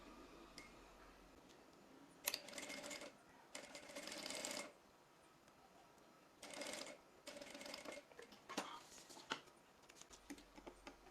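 Sewing machine running a stitch along the edge of clear plastic (cristal vinyl) for a craft folder, several short bursts of rapid mechanical whirring separated by quiet pauses, close by with no talking.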